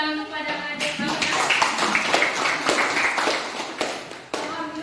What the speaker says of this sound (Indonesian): Tepuk tangan kepada adik kami.